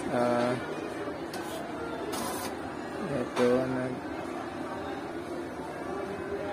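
An Epson L1455 inkjet printer works through a print job, giving low mechanical whirring and brief carriage bursts, with someone talking over it.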